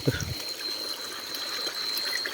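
River water flowing steadily as people cross a river at night, a continuous rushing wash that opens with a brief low thump.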